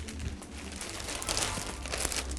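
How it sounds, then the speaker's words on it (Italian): A plastic vacuum storage bag crinkles and rustles continuously at close range as a duvet is pushed inside, soft and steady with no speech. "Apriamo il sacchetto, inseriamo all'interno il nostro piumone,"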